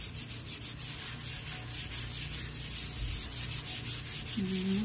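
Scrubbing a stained, yellowed countertop coated with vinegar and baking soda paste, a steady close rasping rub with repeated strokes running throughout, no talking.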